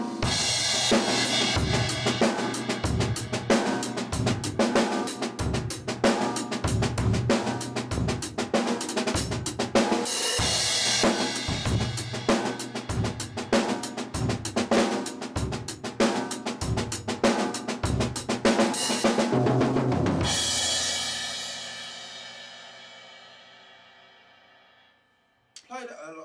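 A drum kit groove with the left hand moving the hi-hat part onto the snare produces a loud, busy, driving locomotive-like rhythm with steady kick and cymbal wash, ending in a long decaying crash.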